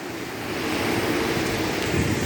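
Flowing water from the Tamor river at Burtibang pours as a steady broadband rush, constant and fairly loud with no talk over it.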